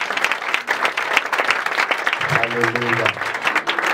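Church congregation applauding and cheering for Jesus, dense sustained clapping from a large crowd with a voice calling out over it.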